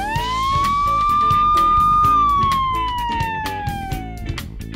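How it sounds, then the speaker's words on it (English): Fire truck siren in a children's construction cartoon game, a loud clean electronic wail rising and then falling over a bouncy backing music track with a repeating beat. "And these are sirens."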